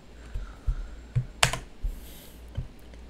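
Separate keystrokes typing a command on a computer keyboard to run a Python network script on Windows, about seven clicks in an uneven rhythm, close and clear with no voice over them.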